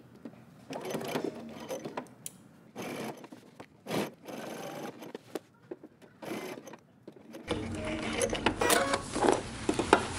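A home sewing machine runs a regular stitch along a jumpsuit facing with the standard presser foot, giving short bursts of close mechanical stitching separated by pauses and a louder, denser run near the end.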